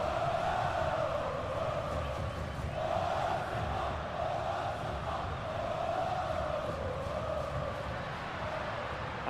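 Steady, swelling roar of a stadium crowd in a football video game, a continuous wash of chanting and cheering with rolling rises in intensity, no talk over it.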